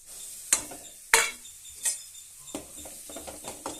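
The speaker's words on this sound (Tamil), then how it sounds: "இப்போ நல்லா கொஞ்சம் பச்சை வாசனை போகிற அளவுக்கு நல்லா எண்ணெயில் வதக்கிறேன்" Cashews and curry leaf powder sauté in hot oil while a metal spatula stirs and clinks against the pan, making sharp intermittent scrapes over a soft continuous sizzle.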